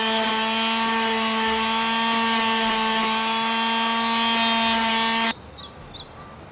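A power sander distressing a wooden desk, heard as a loud, steady electric whine with a strong hum that runs for about five seconds and then cuts off, leaving faint background sounds.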